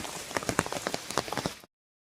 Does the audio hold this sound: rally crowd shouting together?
no